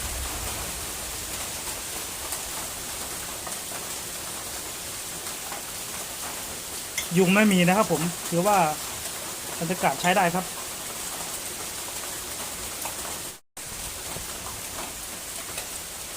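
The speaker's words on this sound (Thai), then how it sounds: "เราก็ ได้ยินเสียงฝนตก กระทบหลังคา" Steady rain drums on a roof above a hammock under a mosquito net, a dense, even hiss that continues throughout while someone speaks briefly in the middle.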